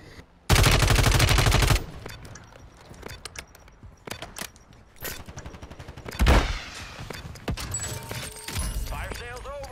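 Gunfire in Call of Duty Modern Warfare III: a loud burst of rapid automatic shots up front, then scattered single cracks and another burst, close and sharp amid game noise and a voice.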